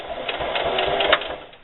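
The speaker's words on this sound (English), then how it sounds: "I'm going to start sewing with an 1/8 inch seam allowance" Sewing machine stitching the seam of a fabric can koozie with a narrow 1/8 inch allowance, a steady close whirring hum with rapid needle chatter for under two seconds.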